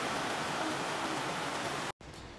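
Steady rain pours down in a rural setting as a dense, even hiss that cuts out abruptly near the end and then resumes.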